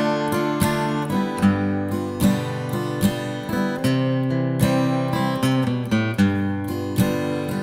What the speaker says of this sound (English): So today I'm jamming on this high vibe acoustic guitar